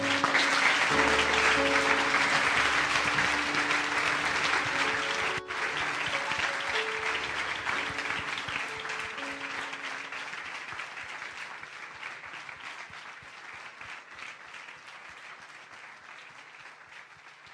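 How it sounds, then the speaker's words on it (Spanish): A church congregation applauds during a Spanish-language service, a long, dense burst of clapping that starts strong over fading tonal music and slowly tapers off. "Denle un aplauso al Señor fuerte."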